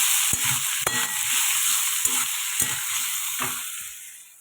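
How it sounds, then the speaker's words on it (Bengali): Fried potatoes sautéing in hot oil in a pan, giving a steady loud sizzle punctuated by several sharp clacks of a utensil stirring against the pan. "একটু কষাবো"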